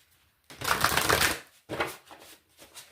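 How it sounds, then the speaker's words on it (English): Two bursts of crisp, riffling tarot card shuffling close up, a long flutter followed by a shorter one, with brief taps after. "One more shuffle."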